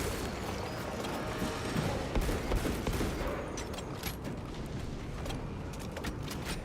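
Bolt pistol gunfire in Space Marine 2, a dense stream of rapid shots and blasts over a constant roar of combat noise, loud and without talk.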